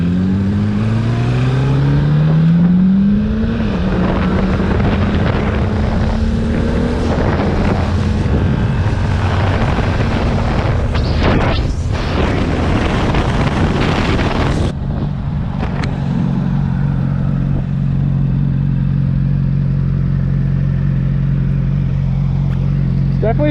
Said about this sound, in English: The R6 has a two-brother slip-on it, so it could be a little quiet.